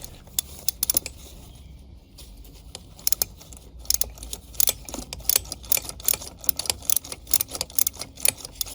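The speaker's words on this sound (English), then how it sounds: "I attach the 1/2-inch ratchet onto it and I loosen it" A 1/2-inch ratchet on an adapter loosens a spark plug on a Kawasaki ZX14R motorcycle during a rebuild, giving close, rapid, irregular bursts of sharp clicking.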